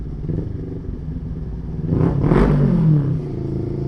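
An NK400 big bike motorcycle rides through a tunnel, its engine rumbling steadily and swelling louder with an echoing roar midway before settling back to a steady drone.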